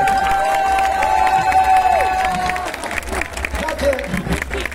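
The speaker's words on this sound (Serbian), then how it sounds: "Jedan aplauz za njih." Concert crowd at an open-air summer festival performance clapping and cheering, with a few whistled tones early on before the applause swells into a loose, lively roar with scattered shouts.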